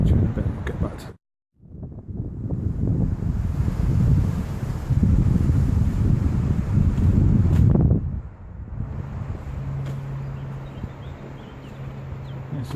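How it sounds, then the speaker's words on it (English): Strong wind gusting in the Forest of Dean, loud buffeting noise on the microphone that drops out briefly, then swells and eases into a steadier blow. "Windy Forest of Dean."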